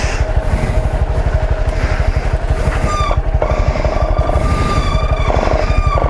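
A motorcycle engine idles on a mountain with a loud, close, rapid and even low thumping that keeps going without a break, while faint higher tones drift over it.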